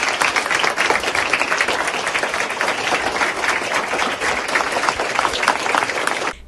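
Dense, sustained clapping from a crowd gathered in a school corridor and stairwell greeting a teacher leaving a classroom, loud and continuous throughout, with only faint voices underneath.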